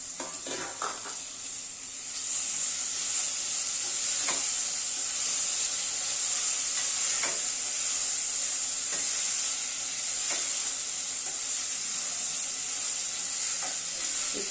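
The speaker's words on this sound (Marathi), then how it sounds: "तर त्यासोबतच आता मी यामध्ये टोमॅटो घालते." Softened onion and added tomato fry in oil for a dhaba-style Veg Kolhapuri, giving a loud, steady sizzle with regular scraping clicks of a spoon stirring the pan throughout.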